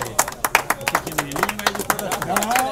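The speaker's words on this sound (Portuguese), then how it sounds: "Vamos aplaudir aí, gente." Audience clapping at a Derac Master event in northern Paraná, with scattered irregular claps near the mic mixed with voices and background chatter for about three seconds.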